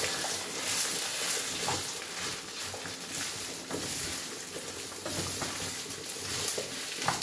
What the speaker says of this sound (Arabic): خليوه يتقلى هكا حتى دقيقه ولا 2